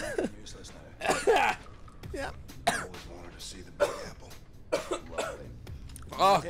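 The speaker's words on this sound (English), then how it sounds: "I've been coughing for like a week straight." Someone coughs and clears their throat repeatedly in short harsh bursts, close to the microphone, mixed with talk and game sounds.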